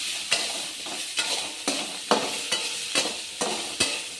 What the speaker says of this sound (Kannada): ಟೊಮೆಟೊ 1-2-3 ಬೆಳ್ಳುಳ್ಳಿ ಹಾಕಿ ಫ್ರೈ ಮಾಡ್ಕೊಳ್ಳೋಣ